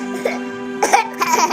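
Two short, close coughs in quick succession, heard over a steady low electronic hum.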